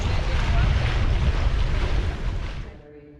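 A sailboat day sailing on Banderas Bay, with loud, steady wind rushing past the microphone over the wash of waves against the hull, then fading quickly near the end.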